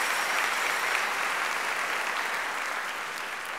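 A large audience claps in sustained, dense applause at a school district convocation and Hall of Fame ceremony, steady and loud throughout with no voices standing out.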